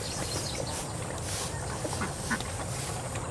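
Ducks quack near a rice field in the countryside, several nasal calls scattered over a few seconds at moderate distance against steady outdoor background noise.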